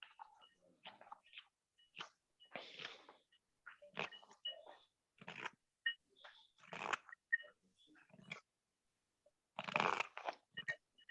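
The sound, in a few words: knife carving crunchy green walnut wood spoon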